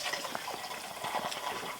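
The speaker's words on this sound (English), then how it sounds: "Bear with me, water going into the mug." Water pours into a small metal mug with a continuous splashing, gurgling flow, close and fairly steady, with no voices.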